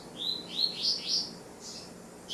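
A young songbird sings beside the female in a cage, a series of bright, high chirps and short trills repeating rapidly, close and clear over quiet background.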